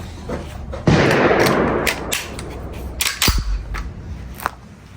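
A Springfield M1A Squad Scout rifle fires at an outdoor shooting range, with one sharp, loud report and a long echoing tail, followed by fainter distant shots from other shooters.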